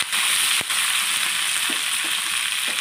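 Curry leaves and green chillies fry in hot oil for a mushroom curry: a loud, steady, close sizzle with a few soft knocks and clicks from stirring.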